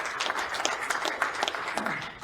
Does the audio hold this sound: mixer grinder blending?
no